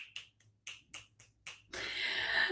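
Close, crisp finger snapping, about seven quick snaps in a loose rhythm, then a sudden wash of broader noise like clapping takes over at the end.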